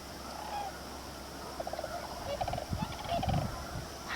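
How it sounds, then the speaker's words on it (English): Cranes give low chuckling calls in a riverside bosque, with geese squawking farther off; a steady stream of bird calls, moderately close, with no talking. "The chuckles you hear in the background are cranes. The squawking further in the background are the geese."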